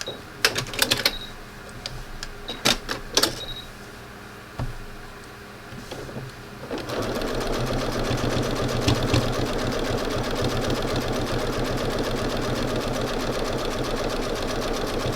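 A sewing machine stitches fabric pieces for a beach landscape quilt. A few scattered clicks and handling sounds come first, then a loud, steady run of rapid stitching lasts to the end.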